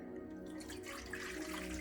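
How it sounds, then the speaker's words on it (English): Water is poured into a pot on a stovetop, a steady splashing gush that starts softly and builds, close by with a low background hum. "I'm going to pour in the water."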